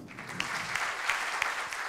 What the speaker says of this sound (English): Very warm applause and welcome him virtually